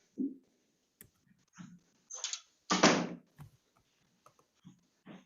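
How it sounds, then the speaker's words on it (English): An indoor door swings shut after the wind blew it open, giving a few scattered knocks and rattles, then a loud, brief clunk and rattle as it closes nearby, followed by faint small taps. "the wind just blew my door open. I'm going to close it"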